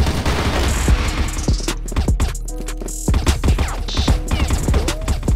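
Rapid bursts of automatic gunfire and single shots from the online shooter CrossFire, loud and close, with dense rattling volleys and brief pauses between exchanges.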